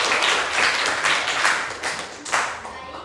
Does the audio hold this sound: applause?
yes